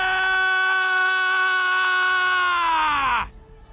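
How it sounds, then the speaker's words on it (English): A single drawn-out scream in Dragon Age: Origins, loud and sustained for about three seconds before bending downward and cutting off abruptly, with no other voices. "Right, so blood-curdling screams."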